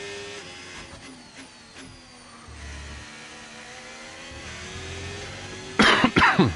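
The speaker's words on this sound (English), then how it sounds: "apologies for the coughing" A person coughs and clears their throat close to the mic over the steady engine whine and revving of an F1 25 racing game, with a sharp burst of coughing near the end.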